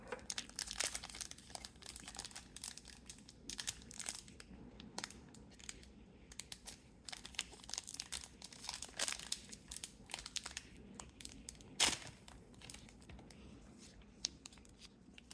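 A Magic Aetherdrift collector booster pack wrapper is opened, heard as close, quiet foil crinkling and scrunching with irregular bursts, a sharper rip near the end, and brief pauses between handling sounds.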